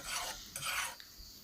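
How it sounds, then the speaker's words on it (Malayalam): Yogurt being stirred into an egg curry in a pan, a soft wet scraping and rasping in two or three close strokes with no talk. "ഒരു ടേബിൾ സ്പൂൺ തൈര് കൂടി നമുക്ക് ആഡ് ചെയ്ത് ഒന്ന് ഇളക്കിയെടുക്കാം"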